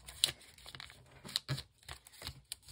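Paper being folded by hand for a diamond origami shape, with soft crinkles, creases and a few sharper rustling snaps spread irregularly through a quiet close-up space.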